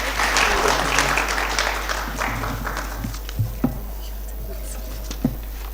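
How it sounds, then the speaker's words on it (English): Audience applause after a university humanities lecture, a full round of clapping that fades into scattered taps, with a low steady hum and faint voices beneath. "let's give her a very big round of applause."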